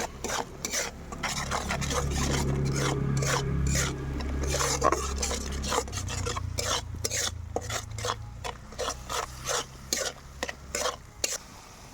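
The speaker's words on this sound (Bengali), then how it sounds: "জিরার গুঁড়ো, হলুদের গুঁড়ো, স্বাদ মতো নুন দিয়ে এবার আমি মশলাটাকে ভালো করে কষিয়ে নেব" Cumin, turmeric and salt are stirred into a spice paste sautéing in a pan for a rohu fish and potato curry. A soft sizzle runs throughout, and a spoon scrapes repeatedly in quick, rhythmic strokes that grow sharper toward the end.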